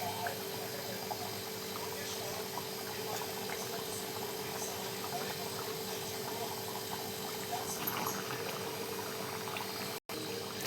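A Marathi dill and sorrel vegetable dish simmers in a pan with a faint, continuous bubbling and small pops at a steady low level, broken only by one brief dropout near the end.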